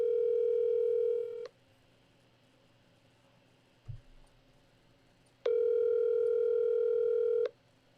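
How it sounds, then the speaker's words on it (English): Telephone ringback tone while a guest is called by phone, two long steady buzzing tones separated by a quiet gap with a faint click, clear and alone. "I'm going to bring her in by phone because we can do it this way"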